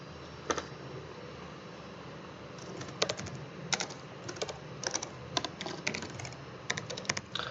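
Quiet, close keystrokes on a computer keyboard while filling in a registration form: irregular bursts of typing with pauses between words, no voices.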